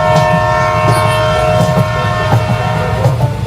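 A running train rumbles steadily and loudly, with sustained horn-like tones riding over a continuous heavy rail clatter throughout.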